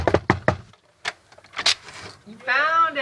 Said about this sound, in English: And then a harder knock.